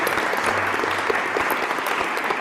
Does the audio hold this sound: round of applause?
yes